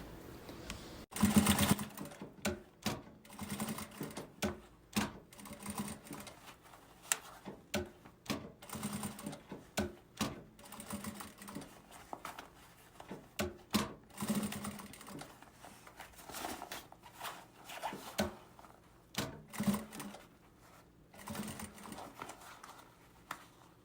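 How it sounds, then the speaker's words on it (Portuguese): Sewing machine running a security stitch around the edge of a fabric pencil case, a steady rapid mechanical chatter in bursts with short pauses, close and fairly quiet, no talk. "Agora, a gente vai passar uma costurinha de segurança aqui ao redor."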